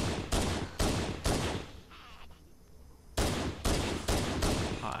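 Gunfire in Halo CE on Legendary difficulty: loud, sharp shots in two quick bursts of three to four rounds, separated by a quieter gap with faint game ambience, and no voices.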